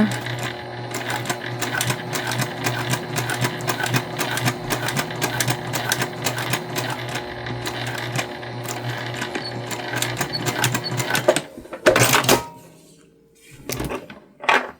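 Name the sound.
sewing machine stitching a baby fabric pattern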